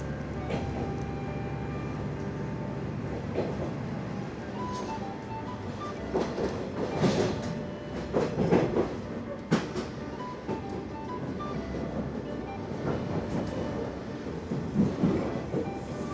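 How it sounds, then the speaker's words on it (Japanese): A KiHa 47 local diesel train pulls out of Kasumi Station on the Tottori–Toyooka line, recorded from inside: a steady engine drone and rumble with rhythmic wheel clatter and occasional sharper knocks, continuous throughout. "霞駅を出発しました。"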